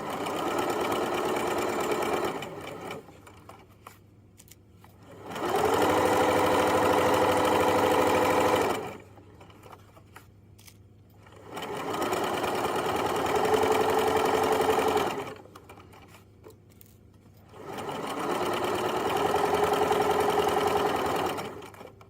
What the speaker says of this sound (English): we're just going to sew forward 3, back 3, do our back stitching, take the pins out as we go